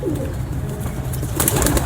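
Breeder pigeons coo softly and steadily in a loft, low throaty murmurs running continuously at close range, with a brief rustle of movement near the end.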